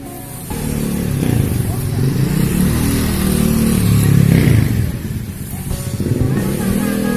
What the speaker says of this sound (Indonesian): Awas mobil.